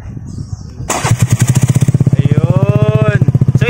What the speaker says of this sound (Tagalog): Ayun, start natin yung makina,